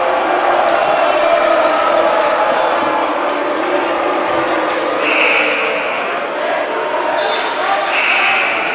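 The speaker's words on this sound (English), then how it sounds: "the crowd not happy with official Andy Paul" Basketball crowd in a gym booing and grumbling at an official's foul call, a steady loud roar of voices with a few whistles and shouts rising near the end.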